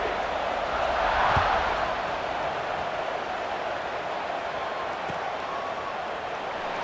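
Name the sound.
stadium crowd buzzing at a college football game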